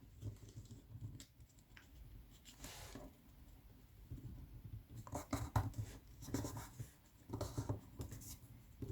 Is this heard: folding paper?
yes